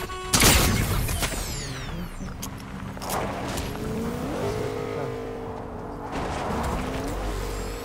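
Car driven in Fortnite, its engine humming and revving close by after a sharp bang at the start, with rising pitch sweeps and mechanical clatter continuing throughout.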